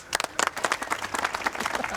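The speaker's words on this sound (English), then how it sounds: "So welcome in, big round of applause." A Scout troop's hall in Sketty fills with a big round of applause as a new leader, Rhod Gilbert, is welcomed in: dense, steady clapping from many hands, close and loud, running for a couple of seconds.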